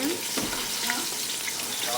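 Onions hit hot oil with a continuous bright sizzle and hiss, moderately loud and close, with a few small clinks and stirring touches in the brief moment.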